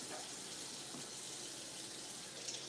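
Tap water runs steadily into a kitchen sink as pieces of flounder are rinsed, a continuous broadband splashing rush at close range with no talk over it.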